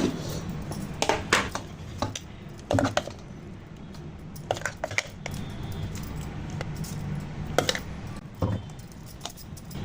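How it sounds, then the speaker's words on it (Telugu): A spoon mixes spicy green chilli, coriander and mint masala paste into minced mutton keema in a bowl, giving irregular clinks and scraping taps with soft squishing between them, close and fairly quiet. "కారం కదా చేయి మండుతుంది అనేసి నేను స్పూన్తో కలుపుతున్నాను"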